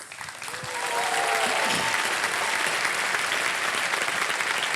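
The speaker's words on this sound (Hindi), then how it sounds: "ताली बजते रहे इनके लिए।" Loud, sustained applause from a studio audience at a televised quiz show, steady clapping that swells in the first second and holds to the end, with a few faint whistles over it.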